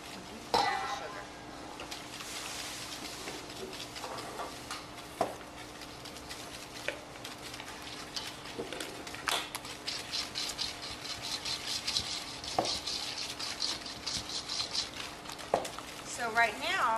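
Sugar and cold eggs are stirred in a pot for genoise, with continuous scraping, clinking and rattling of the utensil against the metal and occasional louder knocks, steady and close throughout.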